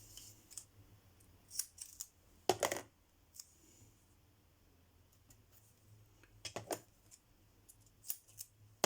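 Scissors snip paper twice in quick crisp bursts, with a few light clicks and taps between them, close by in a quiet room.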